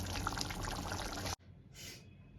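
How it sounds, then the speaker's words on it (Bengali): Thick egg curry is poured onto a plate close up, with a dense wet pouring rush that cuts off abruptly, followed by a quieter soft slosh and drip. "আমি একটা প্লেটের মধ্যে ঢেলে নিয়েছি"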